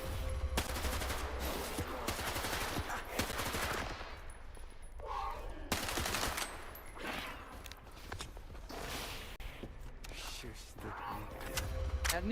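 Rifle gunfire in S.T.A.L.K.E.R. 2, with repeated sharp shots in rapid bursts and short gaps between volleys, sounding fairly close and running throughout the clip.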